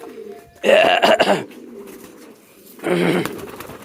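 A red pigeon coos nearby in two short, throaty bursts separated by a pause, fairly loud and close.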